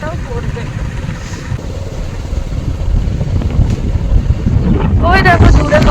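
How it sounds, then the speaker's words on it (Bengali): Gusty outdoor wind buffets the microphone in a loud, low rumble that swells steadily louder, with a brief voice near the end. "মাঝে মাঝে হাওয়াও হচ্ছে"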